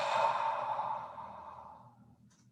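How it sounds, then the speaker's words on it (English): A long, soft exhale during a guided relaxation breathing exercise, breathy and close, swelling briefly then fading slowly over a couple of seconds with no talk over it. "And double exhale and relax."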